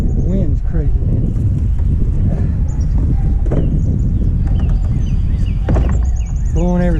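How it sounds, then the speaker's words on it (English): Strong outdoor wind buffets the microphone with a constant loud rumble, with someone talking over it throughout. "The wind's crazy, man."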